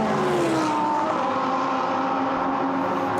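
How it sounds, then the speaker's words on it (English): A GT race car in Blancpain GT Series Endurance Cup practice at Monza, sweeping through the Parabolica: a loud, close engine roar whose pitch shifts as it accelerates past, fading toward the end. "Giovanni Venturini now comes through the Parabolica"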